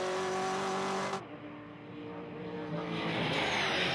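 From inside a Ford Falcon XA race car at Hampton Downs, the V8 roars loudly with a strong tonal drone, drops off sharply as the driver lifts, then builds steadily again under acceleration.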